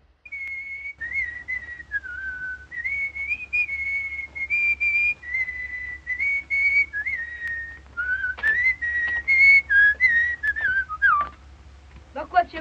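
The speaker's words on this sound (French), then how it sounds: "C'est toi qui siffles" A person whistles a wavering melody in short phrases, fairly close and clear, over a faint low hum.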